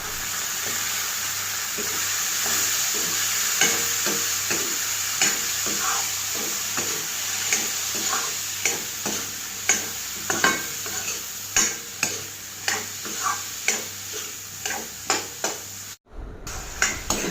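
Boiled chickpeas frying in a pan and being stirred for a dal fry: a steady sizzle with a bright hiss, then a run of regular spoon scrapes and knocks that grows more distinct toward the end, with no talking.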